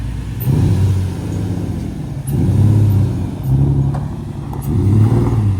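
A drift car's engine runs with a slight misfire, giving several repeated rev swells, each rising and falling with a rough, uneven mid-pitched drone heard up close and alone.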